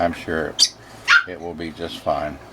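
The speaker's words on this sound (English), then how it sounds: "If you hear our little dog in the background" A little dog gives a few sharp, high yips in the background of a kitchen while someone talks over it.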